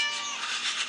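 A cat meows in the Scary Teacher video game, a single drawn-out, fairly loud meow heard on its own without talk.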